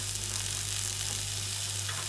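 Broccoli and mushrooms sautéing in a pan for cheesy pasta, a steady soft sizzle with gentle frying crackle throughout, fairly quiet and close with no voices.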